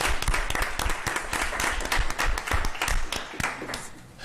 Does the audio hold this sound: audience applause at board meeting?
yes